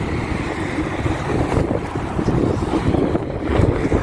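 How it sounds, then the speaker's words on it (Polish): Gusty wind buffets the microphone in a steady low rumble that swells and surges, with no voices. "Ale wietrznie, okropnie, słuchajcie."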